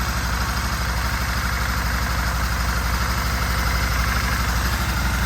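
A 2001 Aprilia RST 1000 Futura motorcycle engine idles close by, a loud, even, throbbing rumble that holds steady throughout with no talking.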